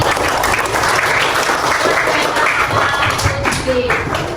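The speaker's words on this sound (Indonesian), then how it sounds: "tepuk tangan untuk" Students in a classroom during a teaching practice session clap together in steady, dense applause that runs throughout, with some voices mixed in.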